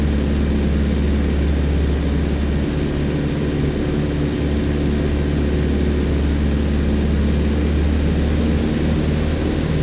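Steady, loud, droning aircraft engine in Flight Simulator X, flying parallel to a runway while approaching an airport to land, a continuous low rumble with a constant hum throughout and no voices.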